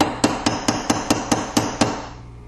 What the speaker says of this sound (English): And then just use a punch to finish off the rest of it.